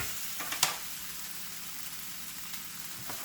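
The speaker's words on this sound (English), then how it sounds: "let the potatoes cook with the onions and the peppers" Potatoes cook in a pan with onions and peppers in a little oil over medium heat, giving a steady, even sizzle with a brief utensil tap near the start and no talking.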